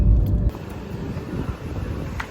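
Two motor tricycles pass on both sides along a street, a loud close rumble in the first half second easing to a steadier engine and road noise with some wind buffeting.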